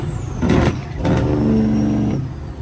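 A classic Peterbilt 379 truck downshifts, its engine dropping and climbing in pitch through two gear changes with a throaty low rumble and brief bursts of exhaust noise, loud and close.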